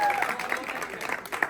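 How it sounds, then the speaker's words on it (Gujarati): Friends at a school reunion clap together in a short, dense patter of hands, close and fairly loud, with voices mixed in beneath the clapping. "મોટું તાળી એકવાર તાળી પડશે"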